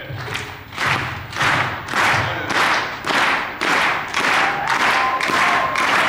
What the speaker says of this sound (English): if you guys could get like a steady clap.